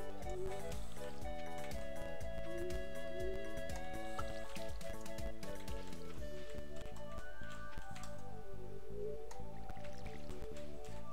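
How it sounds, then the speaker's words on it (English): A watering can watering crops in Stardew Valley, a steady series of squishy, wet drip sounds over busy, continuous game music throughout. "let's first give some water to the plants"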